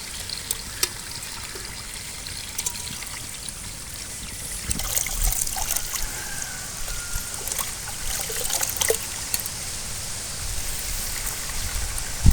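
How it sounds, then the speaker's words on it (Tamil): Greens are rinsed in water, with steady trickling and dribbling splashes and occasional louder drips, close by and with no voices. "இப்போ கீரைகளை வந்து நல்லா அலசி பூச்சி எது இருக்கான்னு பார்த்துட்டு க்ளீன் பண்ணிக்கிறேன்"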